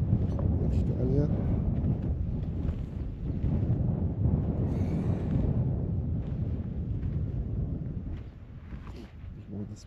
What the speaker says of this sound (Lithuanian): Vėjuota